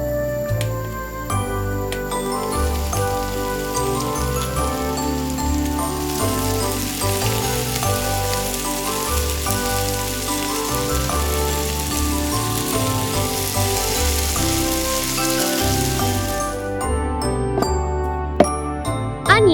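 Cooking oil sizzling steadily in a pan for miniature crispy fried fish, a dense crackling hiss with faint clinks, lasting throughout before ending abruptly near the close.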